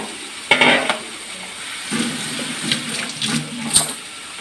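Mustard seeds pop in hot oil in a home kitchen, giving a soft sizzling hiss broken by a few sharper crackling bursts spaced a second or so apart.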